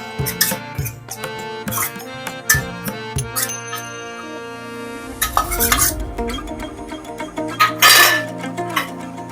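A metal spoon stirs spices in a cooking pan for a Bengali eggplant malai curry, with close repeated scraping, clinking and squeaking strokes in an uneven rhythm, some louder rattling clatters midway.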